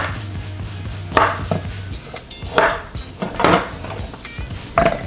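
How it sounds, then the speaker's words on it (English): A knife chops garlic and cilantro roughly on a cutting board for a homemade sauce, with several sharp, close knocks spaced irregularly over a low background hum. "It's actually just to give it like a little rough chop."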